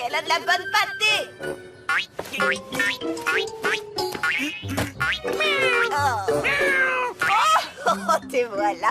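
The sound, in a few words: cat meowing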